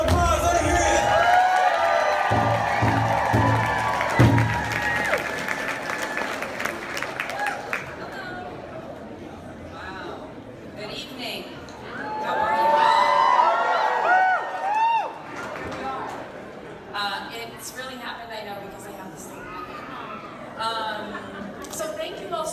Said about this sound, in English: give it up for Sharice Davids. A round of applause, let her hear it